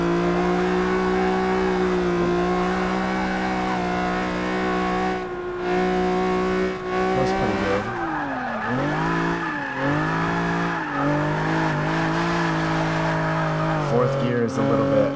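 The naturally aspirated 3.5 liter V6 of a Nissan 350Z revs and accelerates loudly, its engine tone climbing, dipping at gear changes and climbing again in a racing game.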